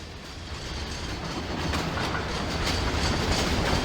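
A Zecrail VR V Class train in the video game Trainz (TRS19) rolls along the rails with a steady rumble and rhythmic clickety-clack, growing slightly louder as it goes.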